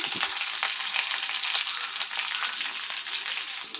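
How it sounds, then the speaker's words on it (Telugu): Curry leaves, green chillies and spices tempering in hot oil for curd rice, a steady close, loud crackling sizzle with bursts of spattering and no voices. "పచ్చిమిర్చి అయితే వేస్తానండి. ఇవన్నీ కూడా బాగా వేగాలి."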